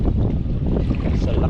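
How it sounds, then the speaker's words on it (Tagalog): Strong sea wind buffets a boat, a steady, loud roar of gusts and microphone wind noise with no break and no voices. "Grabe lakas sa hangin."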